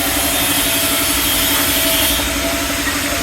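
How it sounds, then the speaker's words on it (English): A generator's diesel engine runs close by at a house build site in the Philippines, a loud, steady mechanical drone with a throbbing low hum and constant rattle, without any pause or change in pitch. "There's the engine."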